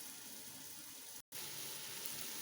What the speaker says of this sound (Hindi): आधा कप जो है ना आलू को उबलाने के लिए पानी डाल देते हैं।